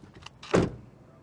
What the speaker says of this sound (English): let's check how this vehicle sounds when you close the door